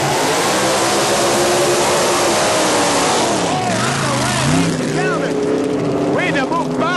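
Supercharged drag racing cars roar loudly through a burnout, a dense, sustained engine blare with shifting pitch, heard with an announcer's voice running over it.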